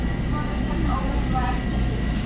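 Interior of a moving train: a continuous low rumble and steady rolling hum of the carriage fill the short stretch at moderate level, with no pauses.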